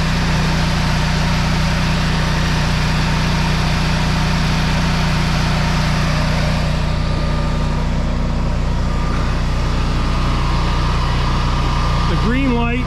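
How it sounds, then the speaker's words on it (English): A Generac 24 kW home standby generator runs steadily outdoors in snow, a loud, continuous low engine hum with no pauses and a faint higher whine on top. "It is very quiet compared to my previous generator."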